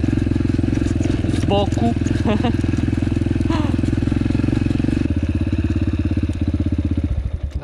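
A motorcycle engine idles steadily up close with a chugging pulse, briefly voiced over by a man, then sputters as it winds down.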